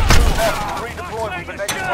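A flashbang grenade goes off in Modern Warfare gameplay, a loud close burst at the start with a ringing, warbling tail afterward, while a voice talks over it.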